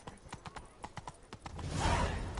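Hoofbeats of Roach, the horse in The Witcher 3, galloping in a steady clip-clop rhythm of sharp thuds, with a swelling rush of wind and ambient noise building toward the end.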